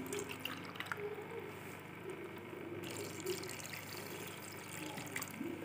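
Water pours steadily into a wok of jaggery, about two cups, a continuous splashing rush over faint background noise, with no talking.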